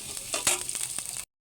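Onion, green chili and garlic frying in a hot pan, a steady bright sizzle with stirring scrapes, close and fairly loud, about a second long with no talking.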